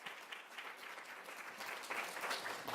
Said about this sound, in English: Give Marian Wright Edelman a round of applause.